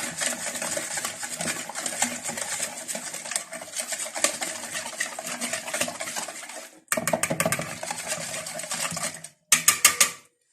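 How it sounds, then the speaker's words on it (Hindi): Electric beater whirring loudly and steadily through a chicken wing marinade of ginger, garlic and salt, close up, cutting off briefly twice before restarting in short bursts. "अब हम इस सारी मैरिनेशन को बीटर से मिक्स कर लेंगे"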